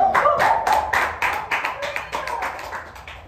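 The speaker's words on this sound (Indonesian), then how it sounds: "Tepuk tangan dulu" A small class audience at a Batak Toba sulim flute teaching session claps together for a few seconds after an improvisation, the hand claps close and steady with a voice speaking over them.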